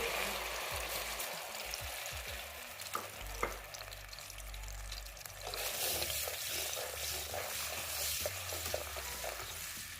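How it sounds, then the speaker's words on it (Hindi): Ground tomato, onion and garlic hit hot oil and sizzle steadily, with a louder burst of frying partway through and soft stirring and scraping underneath, no voices. "ऑयल गर्म हो चुका है। अब इसमें हम पिसा हुआ टमाटर, प्याज और लहसुन को शामिल कर देंगे।"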